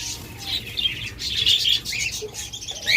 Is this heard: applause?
no